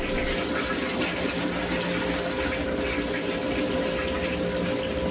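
A repaired leaking toilet refills after a flush, with a constant loud rush and hiss of water pouring into the tank, close and unbroken throughout.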